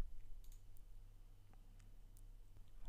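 A few faint, sparse computer mouse clicks spread across a few seconds over a steady low hum, as a download link is opened on a web page; no one talks.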